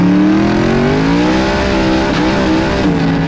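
A built twin-turbo 427 LSX V8 in a Cadillac Escalade revs loud and close, its engine note climbing and holding with steady harmonic drone through the whole stretch.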